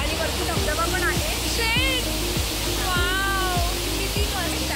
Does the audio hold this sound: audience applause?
no